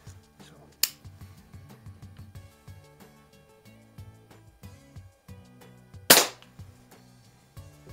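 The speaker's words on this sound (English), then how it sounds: "now I'll shoot the RWS domes. I'll shoot five of these" Ruger Mark 4 break-barrel .177 pellet pistol by Umarex firing RWS dome pellets on a snowy night: two sharp cracks, the second louder, amid quiet handling clicks.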